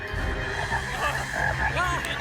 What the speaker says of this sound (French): Les grenouilles.